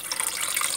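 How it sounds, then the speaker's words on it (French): Water pours steadily into a cooking pot for moong dal and rice khichdi, a continuous close splashing wash with no talking. "Now I'm going to add the water."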